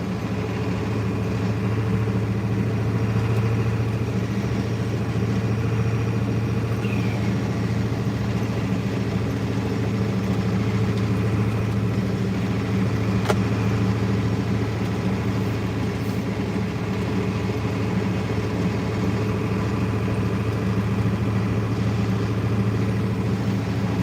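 A tow truck's engine hums steadily in third gear on the road, a continuous low drone with road rumble that holds even and unbroken throughout.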